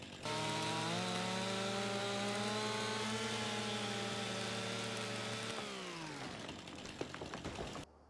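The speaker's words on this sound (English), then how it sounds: "taking the chainsaw, getting down here, grinding the trees, like cutting the little trees here down" A chainsaw in the Farming Simulator 25 game cuts down small trees, its engine holding a loud, steady buzzing whine before the pitch drops as it slows and bogs near the end.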